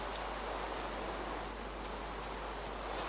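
Steady rain falling in the video game Minecraft, a continuous even hiss of downpour with no breaks, holding at a moderate level and heard alone throughout.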